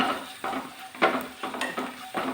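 Ground cumin is stirred into chicken 65 frying in a pan, with about six quick scraping strokes of a spoon against the pan over a soft sizzle, close and fairly loud.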